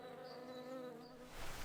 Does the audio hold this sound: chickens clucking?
no